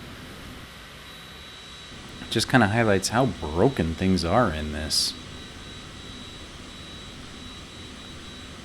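Steady airplane engine drone in Microsoft Flight Simulator 2020, a constant mid-level whine with a thin tone that runs throughout, while someone talks over it in the middle.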